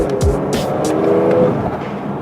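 A Ford Mustang in sport mode pulls hard from close by, its engine note climbing loud and strained for about two seconds with a brief tire chirp at the start.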